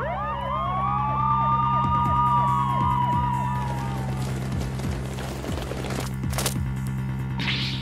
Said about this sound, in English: Mr. Wright, there are police cars outside.